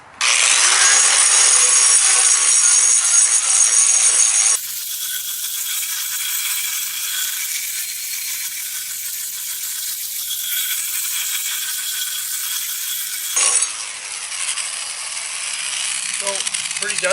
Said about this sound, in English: I'll grind first dry, and then I've got a hose here that we'll try some wet grinding.